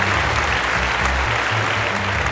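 An audience at an entertainment show breaks into loud, sustained applause, dense clapping with low musical tones beneath it throughout.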